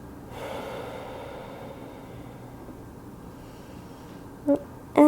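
Slow, deep breathing during a morning yoga flow, heard as a long, soft, airy breath close to the microphone that fades into quiet, with a couple of brief soft knocks near the end and no talking.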